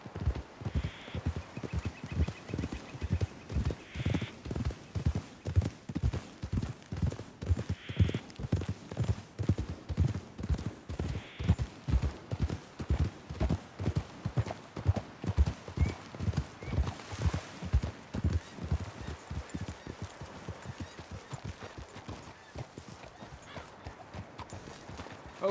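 Horses clip-clop at a steady riding gait across a Red Dead Redemption 2 landscape, the hoofbeats close, loud and rhythmic and continuous, with a few brief whinny-like calls and no talk over them.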